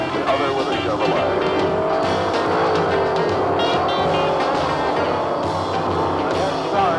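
Fuel-burning drag racing cars, one Chrysler-powered and one Chevrolet-powered, roar continuously at full throttle, loud and sustained, with a commentator talking over the engine noise.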